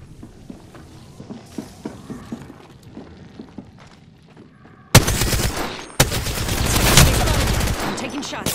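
Apex Legends gunfire starts after a stretch of quiet footsteps and light patter, then erupts halfway through as loud rapid bursts of automatic fire that keep going to the end.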